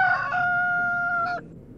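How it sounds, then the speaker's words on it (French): A rooster crows once, a loud, clear, drawn-out cock-a-doodle-doo close by, then stops and leaves quiet background, used as a sound effect in a read-aloud story. "du haut du toit aux tuiles rouges d'une ferme lointaine, un coq chanta"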